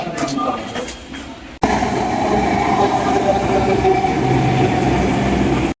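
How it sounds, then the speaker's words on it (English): A Delhi metro train rolls along with a steady loud rumble and rushing roar after an abrupt cut, close and continuous for several seconds. "Let's catch a metro once again."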